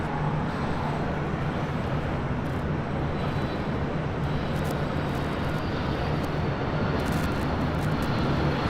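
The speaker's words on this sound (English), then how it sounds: "Next up for arrival, Delta Airlines Flight 479 coming in from Boston" A Delta Boeing 757-200 airliner arrives at Los Angeles International Airport, its engines a broad, steady roar that stays loud and even throughout, with no voices.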